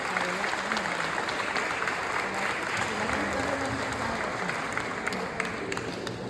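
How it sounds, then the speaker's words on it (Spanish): A congregation at a Catholic religious gathering gives sustained applause, an even, continuous patter of many hands with some voices underneath. "Un aplauso a Jesús y María,"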